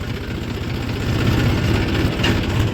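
A tractor engine in top gear hauling a loaded sugarcane trolley, a loud, close, low chugging diesel throb with steady rhythmic knocking and vibration, no talk.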